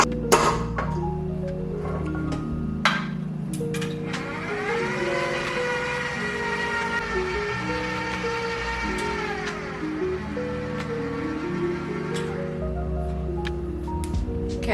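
An electric mixer whirring in a home kitchen while baking cupcake batter, its motor pitch rising as the speed goes up, then holding steady before dropping back, loud and continuous with clinks along the way.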